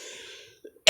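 A single sharp cough from a man who is unwell, loud and close, arriving abruptly at the end after a faint tonal hum and a few soft clicks.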